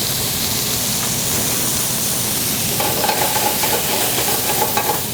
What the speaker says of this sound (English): Okay, get that sauteing